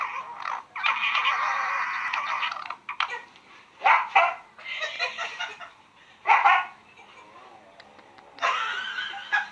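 Puppy barking in a series of short, high yapping bursts separated by pauses, close and fairly loud, with brief bits of voice or laughter between them.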